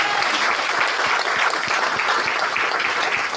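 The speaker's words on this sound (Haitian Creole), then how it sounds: "Bon Dieu, applaudissement pour ça." A church congregation applauds together, sustained clapping with distinct sharp hand claps in a steady dense wash, loud and close, lasting several seconds with no talk over it.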